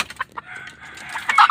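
A captured wild labuyo rooster lets out a few close, sharp clucks and squawks, rising to a louder call at the end.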